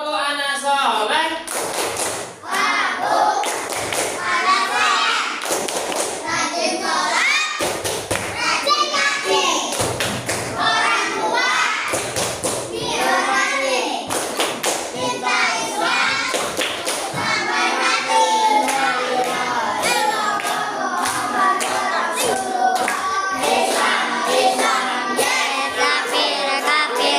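Children clap rhythmically along with the Indonesian tepuk anak soleh chant at a morning school activity, with bursts of claps and thumps mixed with loud young voices throughout.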